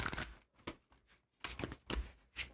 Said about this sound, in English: I'm going to be shuffling these cards here